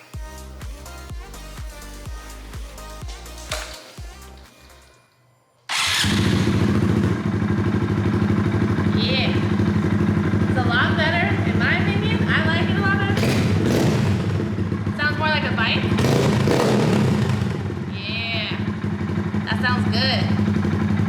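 A 2020 Honda Grom motorcycle with a newly fitted Amazon aftermarket exhaust starts up after a stretch of music and clatter, then idles loudly and close with a steady throb, occasional blips and knocks, and a voice talking over it.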